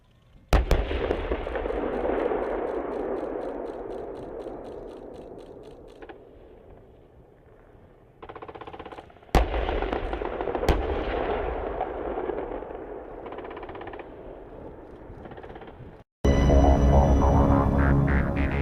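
M1A2 Abrams main battle tanks of a U.S. Army platoon firing from a battle position, sharp heavy cannon reports cracking over a steady rumbling engine drone, with a louder burst near the end.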